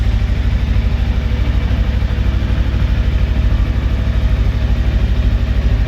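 A Macbor Rockster 410 motorcycle idles close by, a steady rapid low thumping pulse that stays loud and even throughout with no talk.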